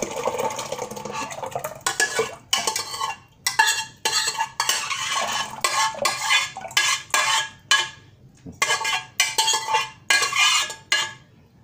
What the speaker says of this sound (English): So I'm transforming from one pot to the other